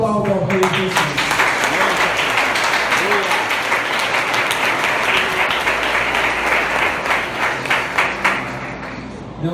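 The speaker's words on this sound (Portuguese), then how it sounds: "Aplauda ao Rei Jesus." A church congregation applauding, loud sustained dense clapping from many people filling the room, with voices calling out beneath it.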